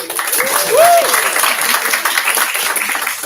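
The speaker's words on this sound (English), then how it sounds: "Do one more round of applause." Audience at a student meeting claps in a brief burst of applause, moderately close, fading quickly with a voice heard amid it.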